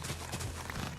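A horse's hooves clip-clop in the Minecraft video game, faint soft steps over a quiet background for about a second.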